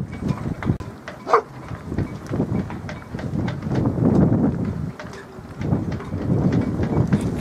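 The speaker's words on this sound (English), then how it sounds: "There's a gust of wind on me now, and that's just it's sideways to the wind" Wind gusting past a small Cutting Edge Cyclone wind turbine outdoors, with heavy buffeting rumble on the microphone that rises and falls over several seconds, with faint knocks in between.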